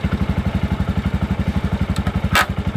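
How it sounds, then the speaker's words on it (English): A tuk-tuk's small engine chugs in a steady, rapid, evenly pulsing idle while being parked in Panglao, Bohol, close and loud, with a brief sharp clatter near the end. "Jasper's just parking the car, I mean the tuk-tuk."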